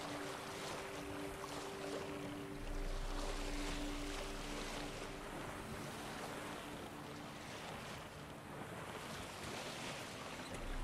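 Sailboat with magically self-filling sails gliding over waves in the video game The Witcher 3: Wild Hunt, a continuous wash of wind and water with a low steady hum underneath, fairly quiet throughout.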